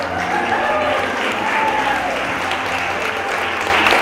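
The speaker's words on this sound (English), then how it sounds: "Give yourself a big round of applause." A room full of people at a speaker-series talk breaks into steady, dense applause, loud and continuous throughout, with voices faintly audible underneath and a slight swell near the end.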